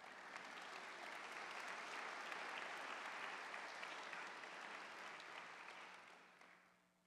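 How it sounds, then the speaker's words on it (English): Full, even applause from a large audience at a fall convocation, holding steady for several seconds before fading out. "Does that deserve an applause?"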